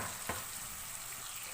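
Daal sizzles and fries steadily in a pan as mixed pickle is stirred in, with a single soft scrape of the spoon near the start. The hiss is constant and fairly quiet, with no talking.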